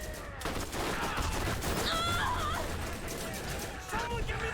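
Sustained rapid gunfire rattles through a round of the Borderlands video game, a dense volley of shots with in-game effects and brief chirps layered over it, loud and continuous.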